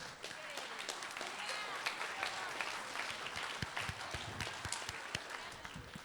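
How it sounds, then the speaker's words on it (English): Quiet applause from a middle school concert audience for the 7th grade band, a soft sustained patter of many hands with a few sharper claps standing out, fairly distant. "one more round of applause for them"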